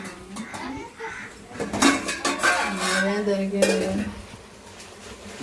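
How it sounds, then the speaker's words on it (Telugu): Curry being stirred in a cooking pot at home, with steady spoon-against-pot scraping and clinking close by, mixed with people talking in the background. "కర్రీ అయితే ఉడికింది ఇంకా తిప్పేసుకున్నాము"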